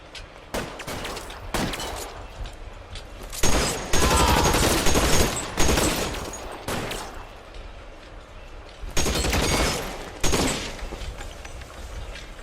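A shootout in L.A. Noire brings repeated loud gun bursts in clustered volleys, each crack ringing out and fading, separated by short lulls.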